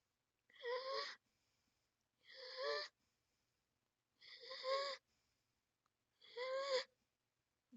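A voice imitates the whistle-like wheezing of sibilant lung sounds, with four separate breathy, tonal bursts evenly spaced and quiet silence between each.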